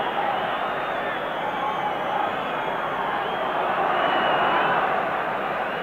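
A 50,000-strong football crowd roars steadily in support of Ireland at a World Cup qualifier against Spain, a dense, continuous wall of sustained crowd noise with no breaks.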